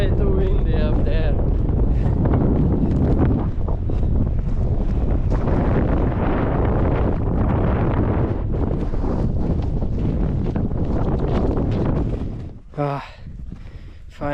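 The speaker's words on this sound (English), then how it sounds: "I'm already going back down because it's way too windy up there." Strong gusting wind roars across the microphone on a snow-covered mountain summit, loud and steady for most of the stretch before briefly easing near the end, with a voice speaking under the noise.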